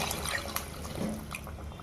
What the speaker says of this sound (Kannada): ಇದು ನಾನು ಮಸಾಲೆ ಎಲ್ಲ ರುಬ್ಕೊಂಡಿದ್ನಲ್ಲ ಅದೇ ನೀರನ್ನ ಇದ್ರೊಳಗಡೆ ಆ್ಯಡ್ ಮಾಡ್ಕೊತಾ ಇದ್ದೀನಿ.